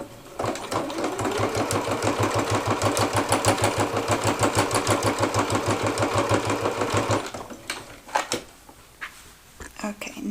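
A sewing machine stitches down a fabric strap with a fast, steady mechanical chatter for about seven seconds, then stops, leaving a few soft handling clicks and rustles.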